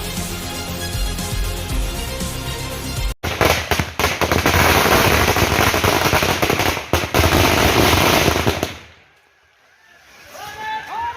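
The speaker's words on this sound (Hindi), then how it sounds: "साथ ही इस दौरान कार्यकर्ताओं द्वारा भव्य आतिशबाजी भी की गई" Party workers setting off a grand display of fireworks and firecrackers, a dense, loud crackling barrage of rapid bangs lasting several seconds before falling quiet, with faint chirping sounds afterward.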